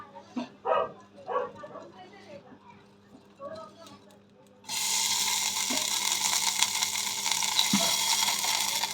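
Ghee hitting a hot pan on a gas flame bursts into a loud, steady hiss and crackle that continues to the end, after a stretch of soft talk and clatter.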